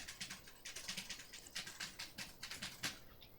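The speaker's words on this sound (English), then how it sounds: "I cannot stand her cherry blues. They are the freaking worst, man. Those clicks drive me crazy." Fast, crisp clicking from a mechanical keyboard with Cherry MX Blue switches, rapid irregular keystrokes heard faintly in the background with no talking.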